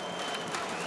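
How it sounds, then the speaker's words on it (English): A loud section of the crowd at an amateur boxing welterweight quarter-final bout makes a dense wall of clapping, clackers and cheering, steady and close, with a brief sharp knock near the end. "There's one particularly noisy section of the crowd here."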